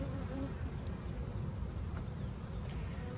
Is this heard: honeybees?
yes